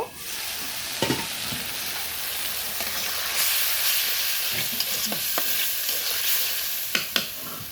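Red potatoes with egg sizzle steadily in a pan, a dense continuous hiss of hot oil with a few sharp clinks of stirring scattered through, close and fairly loud with no talk.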